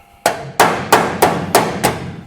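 Six evenly spaced, sharp hammer blows ring out on the sheet-metal firewall of a 1937 Lincoln Zephyr, loud and close with a metallic clang and brief decay after each strike.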